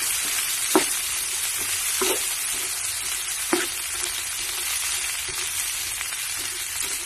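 Sweet potato, chayote and carrot stir-frying in a pan, a steady close sizzle with a few sharp scraping stirs of the spatula scattered through.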